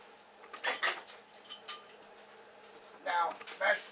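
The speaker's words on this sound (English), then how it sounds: "we'll run through them pretty good with the masher" Boiled potatoes being worked with a handheld potato masher in a home kitchen, giving a few separate clinking, scraping strokes against the pot at close range with quiet gaps between them.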